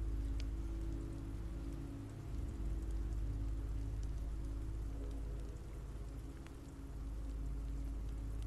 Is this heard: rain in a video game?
yes